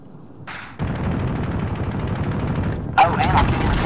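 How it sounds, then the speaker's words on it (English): Sniper rifle fire in a multiplayer shooter game, sharp bursts of shots over a steady backdrop of battle noise, with a loud crack near the end and voices shouting faintly beneath. "Oh god, he's sniping at me"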